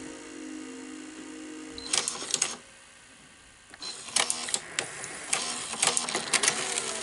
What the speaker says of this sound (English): I just want to see if the threading cycle is gonna work